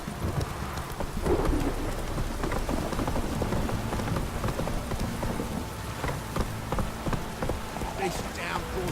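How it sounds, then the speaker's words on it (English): Heavy rain pours steadily in The Witcher 3, with low rumbling thunder and what sounds like horse hooves clip-clopping through the downpour, continuous and fairly loud throughout. "This downpour's a bastard"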